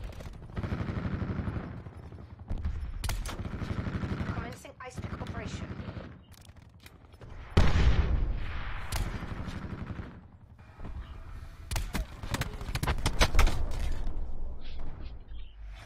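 Gunfire rattles in the video game Black Ops 4, with repeated bursts of rapid automatic shots and single cracks, mechanical clicks between them, and players talking over the action.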